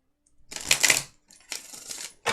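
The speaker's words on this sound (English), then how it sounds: "we'll go ahead and give it another quick shuffle here." An oracle card deck is shuffled in quick bursts, two crisp riffling flurries of cards with a brief pause between and a short start of a third, close and clear in a quiet room.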